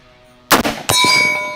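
Assault rifle firing at a target 100 metres away on a zeroing range, heard as a sharp shot followed by a metallic clang of the bullet striking a steel target with a ringing tail.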